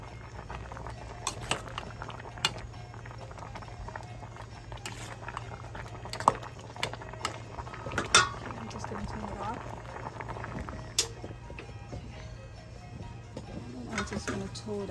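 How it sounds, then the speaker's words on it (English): A pot of soup boils on the stove with steady bubbling and scattered pops and light clinks, close but fairly quiet, under a constant low hum. "boiling now."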